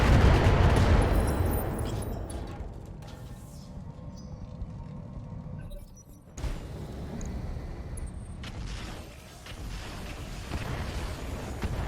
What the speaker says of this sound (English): There's the mortars.